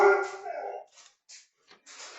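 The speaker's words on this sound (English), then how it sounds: "that was my dog" A dog barks loudly nearby, a strong, drawn-out bark at the start followed by several quieter, shorter yips and bursts separated by brief silences.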